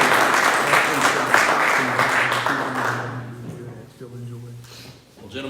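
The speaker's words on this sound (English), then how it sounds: "Let's give them both a round of applause." A Rotary Club audience gives a round of clapping that starts fairly loud and thins out. Talk and a humming tone run underneath as the applause fades toward the end.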